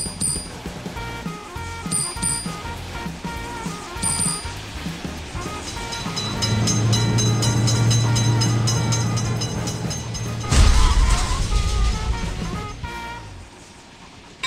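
A train runs past a road-vehicle railroad crossing, its steady rumble and clattering wheels swelling loud and close, with bell-like chimes ringing high above and a heavy burst near the end before fading.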